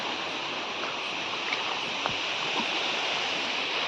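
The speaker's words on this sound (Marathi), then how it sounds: "तुम्हाला नदीचा पाण्याचा आवाज येतच असेल" River water rushes at night in a steady, broad hiss, with a few faint clicks and splashes nearby and no talking.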